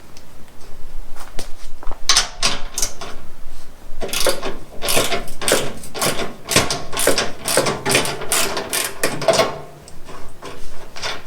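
Lower bolts of a rear license plate being loosened with a ratchet wrench, bursts of rapid clicking separated by short pauses, close and loud.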